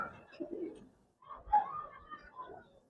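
Giribaz pigeons in a loft give soft, low cooing calls in two short bursts separated by a brief pause, close by and fairly quiet.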